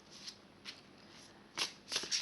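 Oracle cards being handled as the first card is drawn for a reading: soft papery brushing in a few short bursts, the last two louder and close, with no talk over them.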